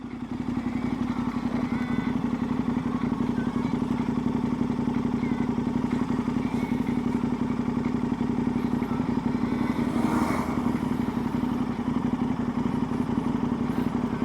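Kawasaki ZX14 motorcycles on a ride, a steady droning engine hum with wind rush heard from on the bike, one passing swell midway, continuous and fairly loud.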